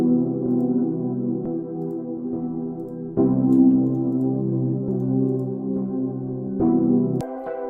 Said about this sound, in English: it turns your pattern or your sound 1 octave lower and also halves the speed